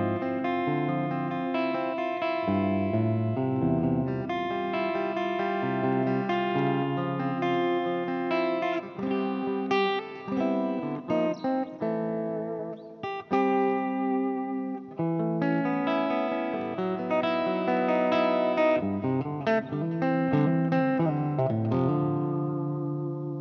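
Electric guitar chords ring through the clean channel of an RCB-SH amplifier with the guitar volume turned up high, loud and full, with strummed chords sustaining in a continuous flowing passage and no talking.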